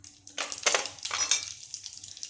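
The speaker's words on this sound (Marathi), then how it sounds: "तेल तापलेलं आहे तर मी आता याच्यामध्ये मोहरी टाकते" Mustard seeds dropped into hot oil for a Karnataka-style vegetable dish, giving a soft crackling sizzle in a few quick bursts that fades to a gentle hiss, fairly faint and close.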